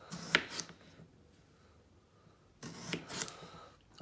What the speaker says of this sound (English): slice them up.